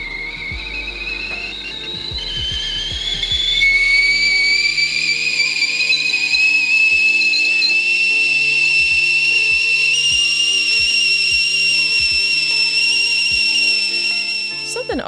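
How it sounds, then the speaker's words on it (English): A stovetop kettle whistles loudly and steadily, its shrill tone rising in pitch and holding, with faint clicks and bumps underneath. "Something oddly satisfying about the screech of a kettle."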